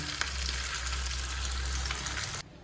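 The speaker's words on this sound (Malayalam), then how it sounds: "ചെറിയ തീയിലിട്ടിട്ട് നമ്മൾ വറുത്ത് കോരിയെടുക്കണം കേട്ടോ" Rava gulab jamun balls deep frying in oil over a low flame, giving a steady, dense sizzle and bubbling that runs unbroken for most of the clip and then drops away abruptly near the end.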